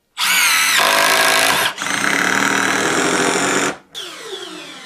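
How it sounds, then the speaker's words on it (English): A pneumatic impact driver whirs loudly in three bursts, a high, buzzing mechanical whine that stops briefly between runs, then winds down at the end. "it uses what's called a pneumatic impact driver"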